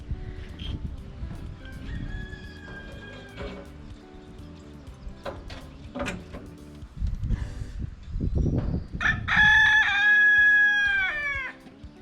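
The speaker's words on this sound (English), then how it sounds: "And we have a loud rooster." A rooster crows loudly twice nearby on a farm, each call a long rising and falling cock-a-doodle-doo, with clucking, rustling and low background noise between.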